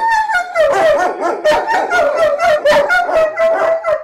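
An explosive-detection dog of a police bomb-disposal unit barks repeatedly in quick rhythmic bursts close by, some barks stretching into whiny yelps.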